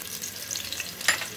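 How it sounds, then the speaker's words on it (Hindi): Chopped medium onion sizzling in hot oil inside a pressure cooker, a steady close crackling fry with a brief louder spatter near the end. "थोड़ा प्याज तलने दीजिए"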